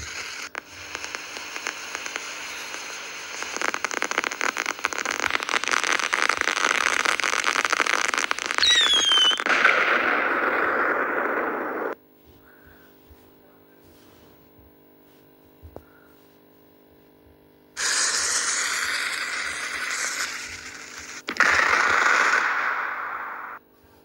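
Firecrackers explode outdoors, heard as long stretches of dense crackling bursts, loud and near, broken by a quiet pause with faint hum before the crackling resumes.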